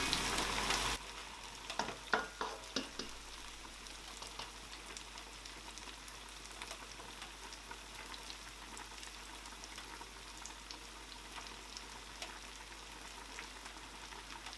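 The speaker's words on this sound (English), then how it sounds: "We are going to fry this tomato until it is done." Tomato frying in a pot on a stove over lowered heat, a steady low sizzle throughout, with a few louder crackles and pops near the start.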